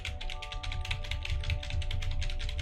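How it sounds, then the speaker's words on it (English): Rapid, steady clatter of keys on a computer keyboard, close and even, with a faint hum underneath. "So now when I type"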